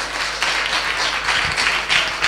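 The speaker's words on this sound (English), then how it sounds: "Let's give them a warm round of applause." Audience applause, with a dense wash of clapping from a crowd that holds steady and fairly loud across the whole short stretch.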